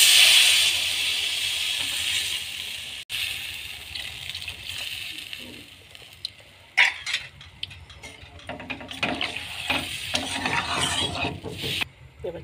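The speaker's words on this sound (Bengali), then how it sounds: "এই যে আলু মশলা ভালোভাবে কষা হয়ে গেছে, জল দিয়ে দেবো তাকে" Water poured onto a fried potato masala in a hot pan sets off a loud rush of hissing steam. The hiss fades, and a bubbling, crackling simmer follows with small clatters from stirring. Close, with no talking.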